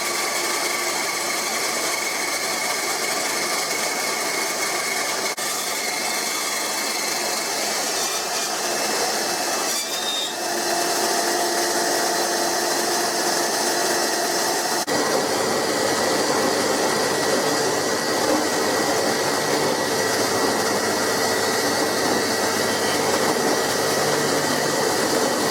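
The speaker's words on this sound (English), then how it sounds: "So I'm going to cut that out now on the bandsaw." Bandsaw cutting a guitar neck blank, a steady loud machine drone with the high whine of the blade running continuously through the wood, close and alone.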